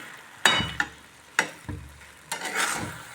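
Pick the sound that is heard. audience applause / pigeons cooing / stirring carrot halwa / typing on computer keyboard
stirring carrot halwa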